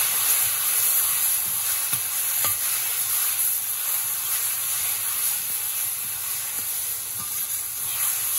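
Kochu shak (taro leaves) stirred in a pan with cumin and coriander powder, giving a steady, soft sizzle with light scraping and stirring throughout, close by and continuous.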